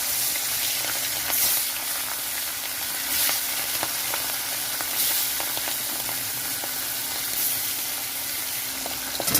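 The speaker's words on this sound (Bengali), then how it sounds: "কড়াইতে সর্ষের তেল দিয়েছি তেলটা গরম হয়ে গেছে তো এখানে আমি ইলিশ মাছটা হালকা ভেজে নেবো" Hilsa fish frying in hot mustard oil in a karai gives a steady, close hiss and crackle, with soft pops and occasional light scrapes running through it.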